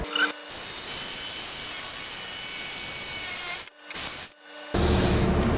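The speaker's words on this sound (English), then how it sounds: "So let me cut this out with the jigsaw." A jigsaw cuts through pallet wood with a steady buzzing rasp that stops briefly twice near the end before resuming, close and without talk.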